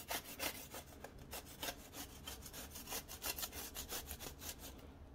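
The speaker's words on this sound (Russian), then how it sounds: "Прям вот так тру на терке." Zucchini is grated by hand on a grater in a home kitchen, giving quick repeated rasping strokes in a steady rhythm that are close and fairly quiet, with no voices.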